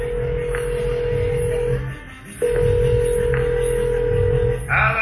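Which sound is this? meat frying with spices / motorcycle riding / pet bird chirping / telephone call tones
telephone call tones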